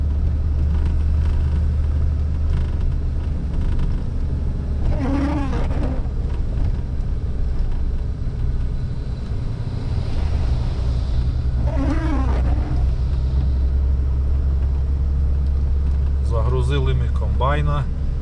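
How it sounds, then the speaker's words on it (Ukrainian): A Massey Ferguson 186 combine harvester drives along with a steady, loud low engine rumble that fills the whole stretch, while someone talks over it at intervals. "Комбайн їде Ємільчине."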